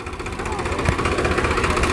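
A small power tiller weeder engine runs close by with a rough, pulsing mechanical chatter and steady vibration, loud throughout with no voices over it.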